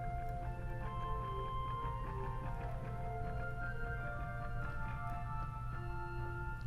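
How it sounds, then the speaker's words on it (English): A soft 4-foot flute stop on the pipe organ at Old St. Patrick's Cathedral in New York City plays a quiet melodic line alone over a low held tone, gentle and airy in the reverberant cathedral. "The flute by itself sounds like this,"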